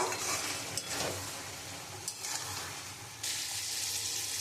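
Oil sizzling and frying over ridge gourd cooked with poppy seed paste in a pan, a steady close crackling hiss with occasional stirring scrapes and a louder burst of sizzle toward the end.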